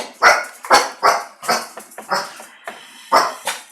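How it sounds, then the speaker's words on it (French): A dog barks repeatedly indoors, about eight sharp, loud barks in an uneven rhythm, close by and alone with no talk over them. "Arrête d'aboyer."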